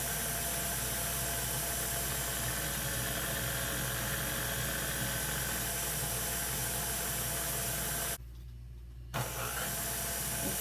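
A motorized pasta machine rolls a lasagna noodle sheet at a low speed setting, giving a steady close whirring hum that runs continuously, breaks off for about a second, then resumes.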